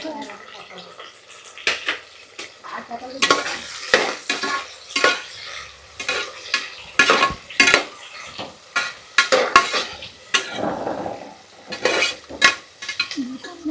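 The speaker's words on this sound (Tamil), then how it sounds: "வெங்காயம், தக்காளி வதங்கிட்டு இருக்குது." Onion and tomato sautéing in a pan, with soft frying underneath repeated clattering spoon scrapes and knocks against the cookware in an irregular rhythm, close, with some talking in the background.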